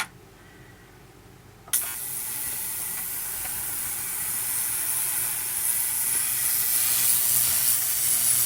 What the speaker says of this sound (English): I have my sonic cleaner right here, and you can kind of see the stuff coming off of him